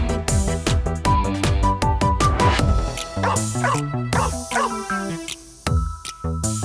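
A bouncy, tuneful children's song plays loudly, with repeated dog woofs and yips woven into the music throughout.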